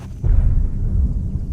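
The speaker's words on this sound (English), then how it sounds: "It sounded like an explosion." A radio-drama explosion effect: a deep, rumbling boom that swells after a quiet start and rolls on as a sustained low roar with no voices over it.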